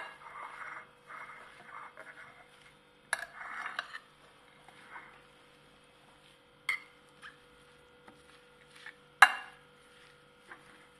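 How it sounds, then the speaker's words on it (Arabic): A utensil stirs chopped tomatoes and onion with bulgur for tabbouleh, making faint scraping and soft intermittent clinks against a bowl, with a few sharper taps standing out in the quiet. "هلأ منبلش نحرك فيهم"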